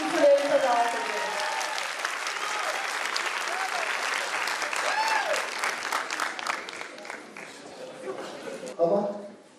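Audience applause at a ceremony, sustained dense clapping from a large crowd for about nine seconds before it cuts off abruptly, with a brief voice at the end.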